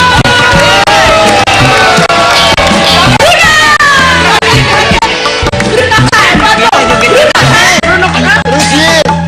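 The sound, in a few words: studio audience applause and cheering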